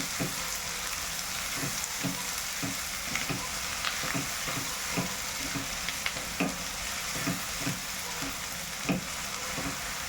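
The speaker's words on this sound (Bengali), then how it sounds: "পেঁয়াজগুলো আমি হালকা ব্রাউন কালার করে ভেজে নিচ্ছি" Finely chopped onions frying in mustard oil for a mutton bhuna, a steady close sizzle with regular soft stirring scrapes at a slow, even rhythm throughout.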